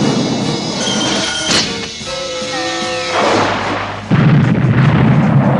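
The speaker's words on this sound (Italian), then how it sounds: "Il drago è esploso!" A dragon exploding in a Hanna-Barbera Space Ghost cartoon: a rumbling cartoon blast with a rising whistle-like tone, then a sudden loud, sustained roaring boom that continues to the end.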